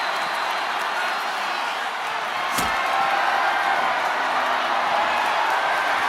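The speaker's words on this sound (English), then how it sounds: "What a raucous crowd here tonight." A virtual arena crowd in the WWE 2K25 wrestling video game roars in a loud, steady wash of cheering, broken midway by one sharp slam-like impact.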